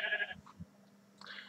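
Minecraft sheep bleat in a pasture, two short nasal calls at the start and end of a brief quiet moment, close and clear.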